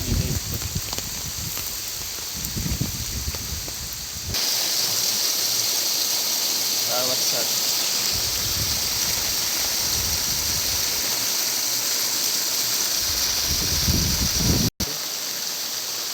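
Heavy downpour of rain since early morning over farmland with maize fields, a dense steady hiss running throughout with low rumbles, loud and continuous with no talk.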